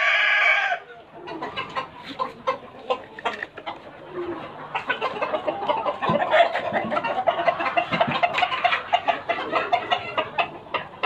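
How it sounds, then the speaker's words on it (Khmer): Chickens on a farm cluck and murmur continuously at close range, with many overlapping short calls and a sharper squawk at the start. "អ្នកចិញ្ចឹមមន់ឮតែសំឡេងមន់ទេបងអើយ"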